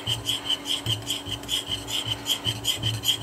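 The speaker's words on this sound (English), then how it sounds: "what I used to do quite often, an awful lot, is a whetstone, a little bit of honing oil" A tool is worked back and forth on an oiled whetstone, giving a close, steady rhythmic rasping scrape.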